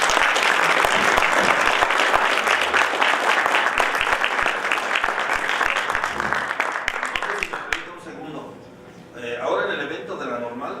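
A congress audience at an event on virtual education breaks into strong, dense applause for about eight seconds. The clapping then cuts off sharply and a voice speaks on alone.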